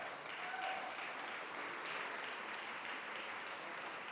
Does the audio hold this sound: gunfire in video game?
no